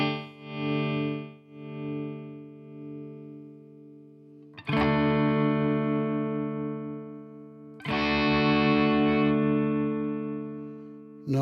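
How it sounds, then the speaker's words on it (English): An electric guitar through a Nembrini JMP Pro iOS amp with slow tremolo plays three sustained distorted chords, each swelling and pulsing slowly in volume before the next strike, loud and alone. "So we've got a slow tremolo."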